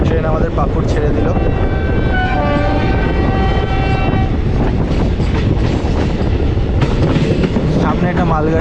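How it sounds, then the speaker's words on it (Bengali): The 12363 Kolkata–New Jalpaiguri Intercity Express pulls out of Pakur station, heard from inside a second-sitting coach: loud steady rumble and rattle of the cars, a sustained horn blast, and voices talking over it. "ট্রেন আমাদের পাকুড় ছেড়ে দিল।"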